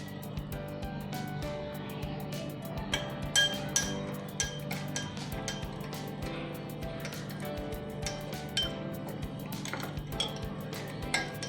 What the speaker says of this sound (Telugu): దీన్ని కలుపుకుందాము వాటర్లో.